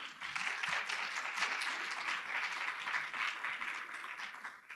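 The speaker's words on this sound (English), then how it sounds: "You don't need to applaud for me." Sustained applause from an audience at a Friends of Williamsburg Regional Library community event, a steady dense wash of many hands clapping that carries on at even volume throughout before easing slightly at the end.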